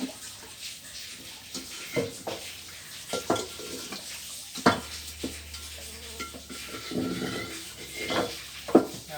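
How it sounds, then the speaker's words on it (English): A wok being rinsed and scrubbed in a kitchen sink, with running water and intermittent clanks and scrapes of metal against the basin, fairly close and moderately loud, with brief faint voices. "this is my first time cleaning a wok"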